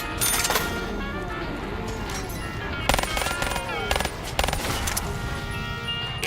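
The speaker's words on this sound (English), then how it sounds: "SMG really should stand for Smallest Magazine Gun, considering how quickly they expire." Submachine gun fire in a video game crackles in rapid bursts, with sharp louder volleys near the middle and later, over a busy layer of game effects and tones.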